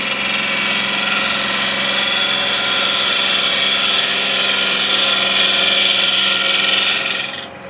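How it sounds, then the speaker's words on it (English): Near and loud, a wood lathe spins a resin and wood bowl for several seconds as a steady broadband whir and hiss, with no talking, before the sound winds down at the end. "And we'll stop the lathe."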